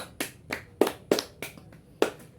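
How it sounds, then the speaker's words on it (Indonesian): A few sharp hand claps in a classroom, six distinct slaps spaced unevenly over a couple of seconds, close and fairly crisp with no talking. "Tepuk tangan dulu karena kita semua masih ingat."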